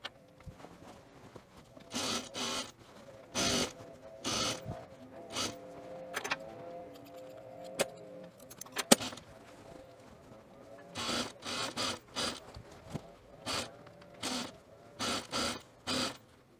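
A sewing machine stitches around the perimeter of a puffer vest along the seam allowance, running in short close bursts separated by pauses, with a faint voice in the gaps.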